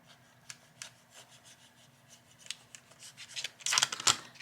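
A rotary cutter slices through material for a handmade card, giving scattered light scraping and rasping strokes that grow louder and denser near the end.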